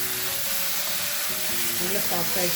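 Tomatoes and curry leaves frying in a pan for a Kerala-style dried anchovy and egg curry, a steady close hissing sizzle throughout, with a voice speaking quietly underneath.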